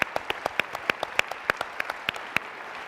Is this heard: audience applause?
yes